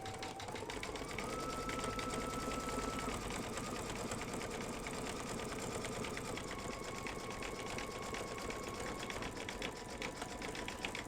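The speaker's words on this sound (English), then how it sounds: "it is going to do a bean stitch" An embroidery sewing machine running a bean stitch, a fast steady mechanical whir and rapid needle rattle with a faint tonal hum shifting pitch, close and continuous with no talking.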